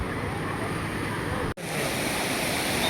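Sea surf at Guhagar beach makes a dense, continuous broadband wash of breaking waves, close and loud, with a brief dropout partway through.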